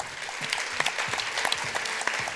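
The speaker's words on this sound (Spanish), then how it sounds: "yo pido un aplauso enorme para ellos" A crowd at a World Press Freedom Day event applauds a Spanish band, a steady dense clapping that holds evenly for a couple of seconds.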